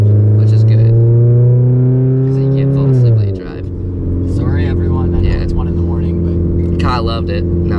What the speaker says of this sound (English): Yeah, the car's pretty loud.